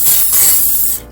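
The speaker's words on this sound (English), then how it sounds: "Spray the pan," Olive oil cooking spray hisses from a can onto a pan in a home kitchen, one loud close burst of about a second that cuts off abruptly.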